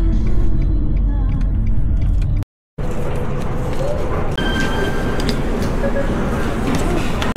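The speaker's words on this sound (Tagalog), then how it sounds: "Ganda ng train stations nila dito. Multi-level." A Kuala Lumpur train station fills with a dense rumble of rail traffic and crowd noise, steady and fairly loud, broken by a brief gap, with people talking nearby.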